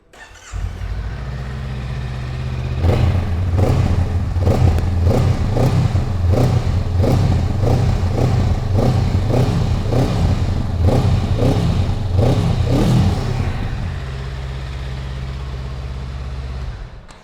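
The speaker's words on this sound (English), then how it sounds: "That's what the 471cc parallel twin engine sounds like." A 2025 Honda Rebel 500's 471cc parallel-twin motorcycle engine idles with a deep rumble, then revs repeatedly in quick bursts before settling back to a steady idle.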